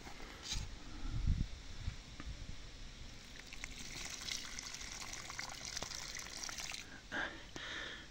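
Liquid manure mixed with water is poured over seedlings, a soft splashing and trickling of liquid with a few louder gushes, faint and close throughout.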